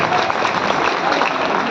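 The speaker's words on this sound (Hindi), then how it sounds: "उनके लिए जोरदार तालियों से स्वागत करिएगा" A crowd at a Vishwakarma community gathering claps loudly and continuously to welcome the event's chairman, a dense, even wash of hands with no pause.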